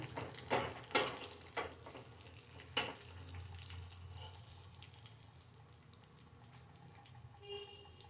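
Food frying in a pan until golden for Vinayaka Chavithi prasadam, a soft steady sizzle with a few louder stirring clatters near the start, no talk.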